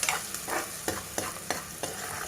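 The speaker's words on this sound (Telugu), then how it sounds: "ఈ విధంగా మనం ఒక 2 నిమిషాలు బాగా వేపుకోవాలి." Chicken kheema and onions fry in a pan, a steady close sizzle broken by about six sharp scraping stirs of a spoon at regular intervals, with no talking.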